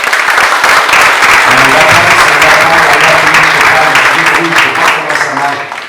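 Loud, sustained applause from a church congregation fills the space, a dense wash of many hands clapping together that holds steady and then eases slightly toward the end.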